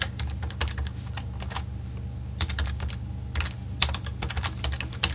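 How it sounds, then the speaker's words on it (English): Rapid clicking keystrokes on a computer keyboard come in irregular bursts with brief pauses, close and clear over a low steady hum. "I'm just going to go ahead and type it."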